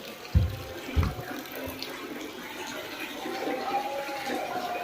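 An old waterfall flows in a steady, moderate rush of running water, with a couple of brief thumps near the start.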